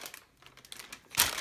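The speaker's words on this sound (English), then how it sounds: "all you can hear is the rustling of the paper" Soft paper crinkling and rustling in small bursts, then a louder crumpling rush near the end, close by with no speech.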